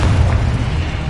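A Confringo blasting spell goes off in Hogwarts Legacy as a loud, close, deep boom, with a heavy low rumble that holds for about a second.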